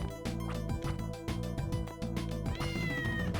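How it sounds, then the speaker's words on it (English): A cat meowing in the video game Castlevania: Order of Ecclesia, a few short mews heard over loud, busy in-game music. "And yeah, I can hear the cat."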